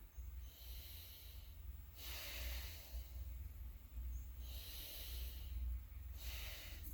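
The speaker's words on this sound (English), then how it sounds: "Take a couple easy breaths here" Slow, easy breaths held in yoga fish pose, three long airy inhale-exhale swells close to the mic, quiet and unhurried over a low hum, no talking.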